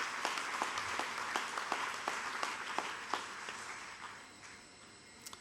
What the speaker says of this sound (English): a big round of applause for everyone that's here